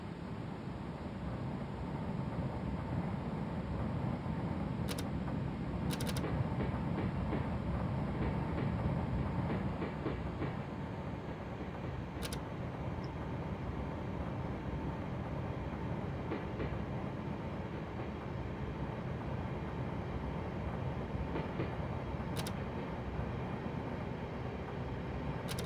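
Sacramento Northern SN 1003 interurban electric train rolling steadily in a simulator, a continuous loud rumble of wheels and motor with brief sharp clicks and signal tones scattered throughout, no talking.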